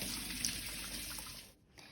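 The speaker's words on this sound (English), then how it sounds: "You bring water and wash with soap." Tap water runs steadily into a sink for handwashing with soap, a close continuous splashing hiss that briefly cuts out near the end before resuming.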